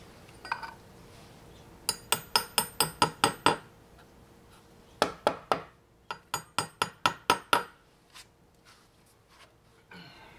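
A homemade hammer made from spikes strikes during porch screening work, landing two quick series of sharp metallic clinking blows, about seven in each burst, close and loud, with a brief voice at the start.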